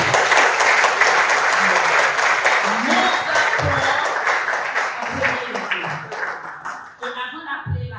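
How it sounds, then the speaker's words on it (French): An audience at a morning award ceremony for the Reserve National 2024 prize gives sustained, dense applause that stays strong and then tapers off, with a few voices near the end. "je vais vous demander d'applaudir toutes les personnalités présentes ce matin pour recevoir ce prix."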